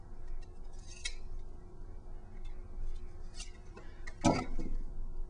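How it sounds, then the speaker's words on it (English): A box knife scrapes and slices through foam in a few short, crisp strokes, with one louder cut near the end over quiet room tone. "Now I'll use my box knife and just sort of get it right in the corner there and make"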